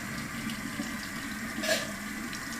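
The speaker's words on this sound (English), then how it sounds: "Make sure you dump your water out for your next rinse." Rinse water for cleaning a fresh 8g ear piercing is poured out into a sink, a steady, close splashing wash with one brief louder gush partway through.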